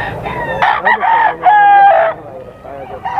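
A rooster crows loudly and close by, its drawn-out calls broken by quick clucks, with other chicken noises in the background.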